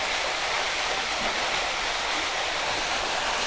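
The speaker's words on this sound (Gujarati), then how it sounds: "પહાડ ઉપરથી જો સરસ મજાનું ઝરણું જો નીચે આવી રહ્યું છે" A waterfall stream pours down a mountain into a river canyon at Kadiya Dhro in Kutch, giving a steady, dense, close rush of falling water that holds unbroken throughout with no voices.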